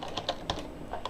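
Rapid typing on a computer keyboard, several crisp keystrokes in an uneven run, close and moderately loud with no voices.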